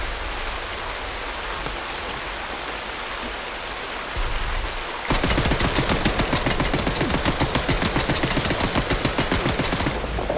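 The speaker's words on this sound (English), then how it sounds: "Somebody's shooting at something." Gunfire in the video game Atomfall starts halfway through as a sustained, rhythmic machine-gun rattle. The rapid, even shots cut sharply in over a soft hiss of ambient noise and stay loud until the end.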